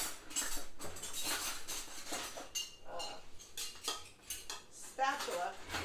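Metal utensils clatter and clink in a kitchen drawer as someone rummages for a spatula. The jangling comes in close, busy bursts with brief pauses, and a voice murmurs faintly at times.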